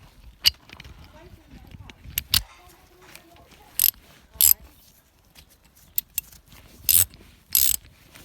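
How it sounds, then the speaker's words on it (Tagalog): Sharp ratchet clicks in short bursts as a 19 mm socket works a starter motor bolt loose on a 2004 Vauxhall Astra 1.7 turbo diesel, close and fairly loud with pauses between strokes. "you will remove this using number 19 socket."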